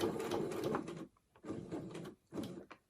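Sewing machine stitching a straight seam across a tote bag, three bursts of fast mechanical whirring separated by short pauses, close and fairly quiet.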